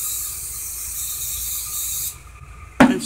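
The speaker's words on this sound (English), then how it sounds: "And spray it really well" An aerosol can of spray adhesive is shaken and then sprayed during a craft project making mini homework books, giving a steady close hiss that cuts off near the end before a sharp rustle.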